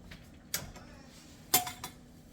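A flat metal canning lid with a rubber seal softened in warm water is set onto a glass jar while pressure canning chicken broth, giving a few light, close metallic clicks and taps in a quiet room.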